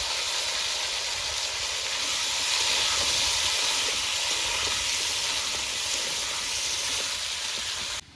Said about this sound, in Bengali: তেল গরম হয়ে গেছে এবার আলুটা ভালো করে ভেজে নেব